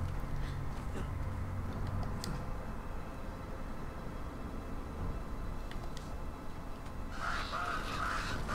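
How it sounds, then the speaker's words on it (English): Crows cawing in the Uncharted 2 video game, a few scattered calls over a steady dense background of game ambience, with a brighter burst of activity near the end. "It's just birds."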